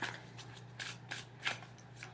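A tarot card deck being shuffled by hand in a quiet room: several quick, crisp riffling bursts at irregular intervals over a low steady hum, close and fairly soft.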